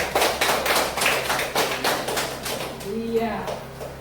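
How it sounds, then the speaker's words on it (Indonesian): A school class claps for a pupil after a maths answer, a brief burst of rhythmic hand clapping that fades out, with a teacher's voice speaking near the end. "tepuk tangan buat Spencer."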